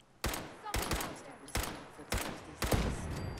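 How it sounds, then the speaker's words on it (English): A machine gun turret fires in the PC game Fallout 4, five loud, abrupt bursts of rapid gunfire in quick succession, each with a ringing tail, close and dominant. "We have a machine gun turret."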